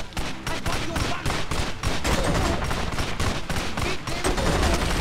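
Dense bursts of rapid gunfire in the video game Wheelman crackle continuously, loud and close, with shots overlapping in quick succession and no clear speech.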